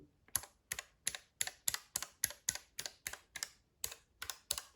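Rapid, crisp clicks of an Olivetti ANK 2463 buckling spring keyboard (IBM Model F type), about fifteen sharp keystrokes in a fairly even rhythm, close and alone.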